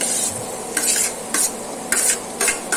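Spatula stirring onions and tomatoes with ginger-garlic paste in a pan for a tomato egg curry, heard as repeated scraping strokes about every half second over a steady, close sizzle, with no talking.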